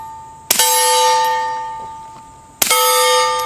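Two suppressed gunshots strike a steel coffin-shaped target, each impact a bright metallic clang with a long ringing tone, about two seconds apart, loud and close with no talking.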